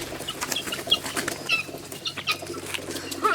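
Guinea fowl flapping their wings on a farm, with a flurry of close, crisp wingbeats and rustling bursts through a busy outdoor background and a few faint bird calls.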